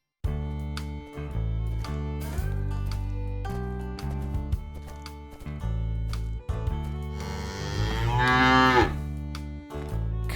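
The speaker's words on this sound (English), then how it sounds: "Cow." A cow moos loudly with a long, rising, harmonic call near the end, layered over continuous background music in a children's farm and zoo animal sound compilation.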